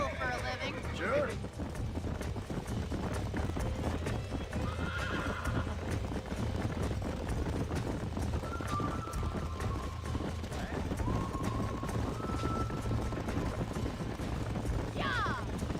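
Horses in the video game Red Dead Redemption: steady clip-clop hooves run throughout, with several sharp neighs and whinnies rising over a low rumble, while faint voices murmur now and then.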